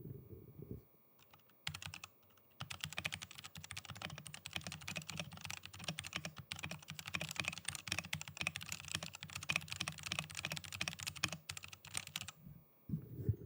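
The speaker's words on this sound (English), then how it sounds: "so that was a little bit of typing for you, so you get an idea of what the brown switch sounds like" Rapid, steady typing on a mechanical keyboard fitted with brown switches, dense clattering keystrokes close up for several seconds, with short pauses near the start and end and no talking.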